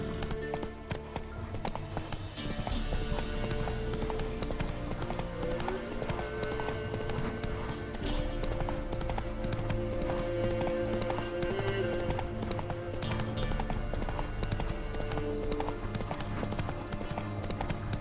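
Roach, a horse in the video game The Witcher 3, keeps up a steady rhythmic clip-clop of hooves over a continuous bed of music and ambience, with no clear talk.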